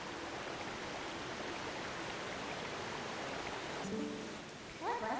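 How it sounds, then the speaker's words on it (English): Steady rushing water from waterfalls in Zelda: Twilight Princess, a constant broad hiss of falling and flowing water with a few brief game chimes near the end. "Like all the glorious waterfalls and stuff."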